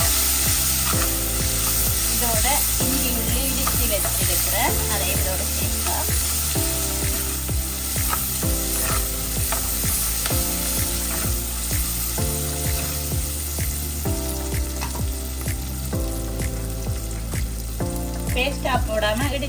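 Ingredients sauté in a clay pot for a fish curry with a loud, continuous close sizzle, while music plays steadily underneath throughout.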